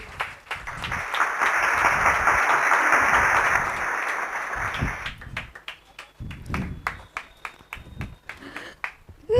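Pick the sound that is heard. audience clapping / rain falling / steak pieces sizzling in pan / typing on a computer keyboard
audience clapping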